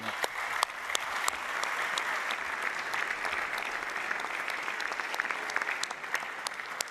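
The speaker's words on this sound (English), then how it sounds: "Big applause." Sustained applause from the audience at the draw ceremony for the 30th IHF Men's Handball World Championship, a steady, even roar of clapping with a few sharper claps standing out.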